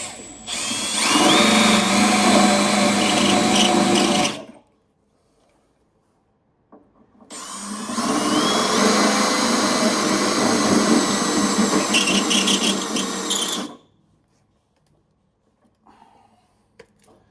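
A power drill with a spot-weld cutter grinds through a metal spot weld in two long, loud bursts of about four and six seconds, separated by a quiet pause, with a faint clink afterward.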